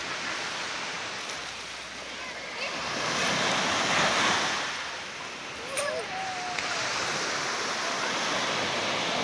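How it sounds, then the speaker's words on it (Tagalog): Sea waves on a beach at Rolo Beach, Samal, washing in with a broad, steady roar that swells in the middle, mixed with wind buffeting the microphone and a few faint background sounds. "Mag-video naman ta sa dagat diri sa beach"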